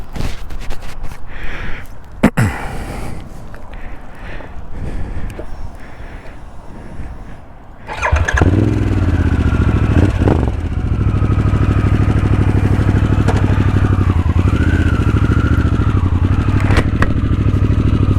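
A Harley-Davidson Sportster S motorcycle with quieter handling and movement at first, then the engine fires up and settles into a loud, steady, close rumble that runs on as the bike pulls away and rides.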